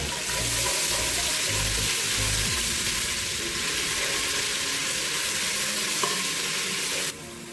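Garlic ginger paste frying in a pan for aloo matar gosht, a loud continuous hissing sizzle with low rumbling stirs early on, dropping slightly near the end.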